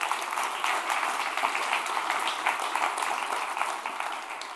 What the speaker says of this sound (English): I just want to give them a round of applause